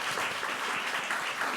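A church congregation applauds at a discipleship class graduation ceremony, a brief burst of steady, moderately faint clapping from a crowd indoors.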